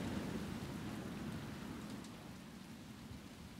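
Steady rain in the Resident Evil 2 video game, a dense, even hiss of falling drops with a low rumbling undertone, fairly quiet and continuous throughout.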